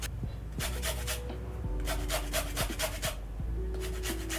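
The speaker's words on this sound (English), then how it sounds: "I'm going to zest this lemon" A lemon rubbed against a zester, giving repeated short rasping scrapes in quick bursts, close up, with steady low background hum and no talk.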